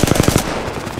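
Fast machine-gun fire in a shooter game, a loud close burst of about five rapid shots that then trails off into a noisy echo.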